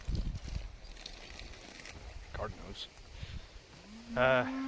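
A cow lets out a single drawn-out moo near the end, with quiet farmyard shuffling and a few faint knocks from the cattle beforehand.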